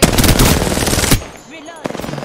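Rapid automatic gunfire rattles in an Apex Legends match, a dense, loud burst for about a second. A short silence follows, then a second quicker burst of shots.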